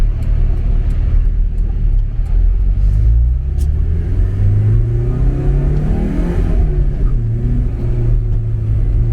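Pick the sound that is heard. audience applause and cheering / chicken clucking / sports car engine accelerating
sports car engine accelerating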